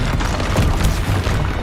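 Fiery Confringo spell blast from Hogwarts Legacy gameplay, a deep rumbling boom with crackling bursts rolling on for over a second, loud and close.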